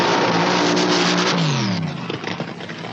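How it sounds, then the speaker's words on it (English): A loud, roaring dragster engine revs hard and sustained during a burnout heating the rear slicks, the pitch sweeping down as it eases off, with gritty noise underneath. "So Tony Nancy heats up the slicks."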